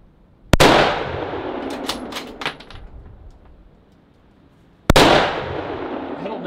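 Two sharp bolt-action rifle shots about four seconds apart, each loud and close with a long rolling echo, fired at a moving bowling ball outdoors; a few faint clanks fall between them.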